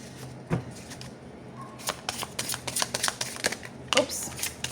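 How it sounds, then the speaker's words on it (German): Tarot cards being shuffled by hand in a series of soft, papery riffles and slaps at close range, with brief pauses between bursts and quiet background noise. "wir mischen mal weiter"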